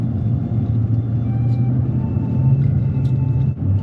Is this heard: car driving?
yes